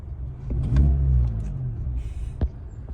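A 2010 VW Golf 6 with a 1.6 MPI petrol engine runs close by, a low steady rumble swelling briefly early on, with a sharp click near the end.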